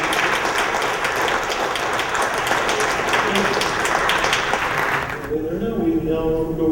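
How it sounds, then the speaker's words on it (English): Audience applause follows an astronomy lecture in a hall, a dense, loud, sustained clapping that cuts off abruptly near the end, giving way to a faint voice. "So again, just another round of applause for Dr."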